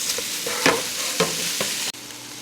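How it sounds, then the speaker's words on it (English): Ground beef frying in a pan while being broken apart, a dense close sizzle punctuated by several quick scraping taps from a utensil, ending with an abrupt drop in level. "first thing we're gonna do is cook down some ground beef"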